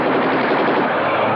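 Gunfire from soldiers shooting on command in a 1963 British crime film scene, a dense, continuous roar of shots and noise, loud and sustained for the whole short moment with no pauses.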